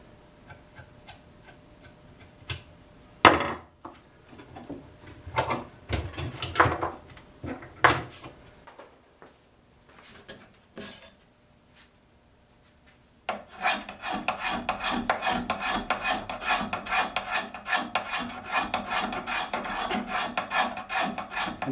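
A gooseneck scraper cutting wood: scattered rasping strokes at first, then a fast, even run of scraping strokes close by.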